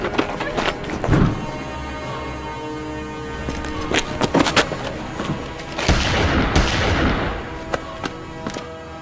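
Gunfire in a South Indian action film shootout, several sharp shots and booming impacts scattered among crashes and score, with a loud burst of blasts near the end.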